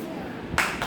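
A single sharp hand clap in a children's letters learning game, with a second fainter clap right after, close and fairly loud in a quiet room.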